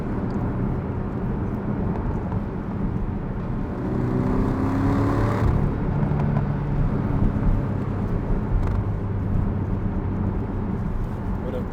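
A Porsche 718 Cayman GTS 2.5 engine drones steadily from inside the cabin while driving, rising briefly in pitch midway as it pulls harder, with a constant road and wind rush underneath.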